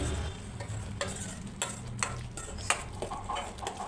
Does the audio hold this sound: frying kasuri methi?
yes